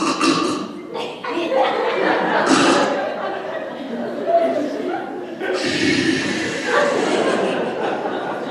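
A voice imitates sleep apnea snoring, with rough, breathy snore sounds broken by short pauses and some light chuckling nearby.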